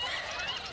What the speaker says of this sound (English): Can you hear the geese?